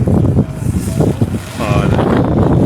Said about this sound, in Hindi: ये देखिए हवा भी बीच बीच में काफ़ी तेज़ हवा का असर भी है।